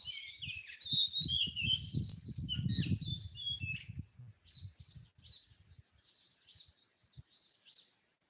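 Small birds chirp and twitter in quick high bursts among rose bushes, busy at first then sparser, over soft low rumbling.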